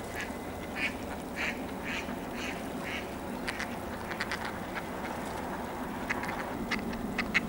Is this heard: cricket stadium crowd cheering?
no